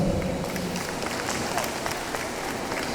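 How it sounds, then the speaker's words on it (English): Audience applause at a book festival in the Andaman Islands, a steady dense wash of clapping from a crowd throughout, with faint voices mixed in. "A huge round of applause, ladies and gentlemen."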